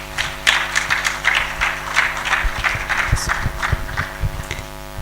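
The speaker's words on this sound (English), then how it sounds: "Please, another round of applause for her." Audience applause at an agricultural technology launch event in Nigeria, a room of many hands clapping steadily and fairly loudly for several seconds with some louder individual claps.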